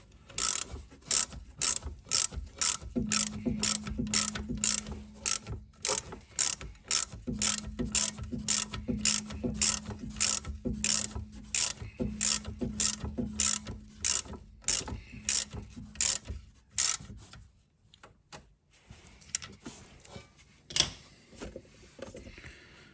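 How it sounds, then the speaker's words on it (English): Rapid ratchet clicking as a wrench tightens the rear brake caliper slide pins on a P2-generation Volvo V70, S60 or S80, steady close clicks in quick bursts for most of the clip, then a few looser mechanical knocks. "I'm just tightening both the slide pins"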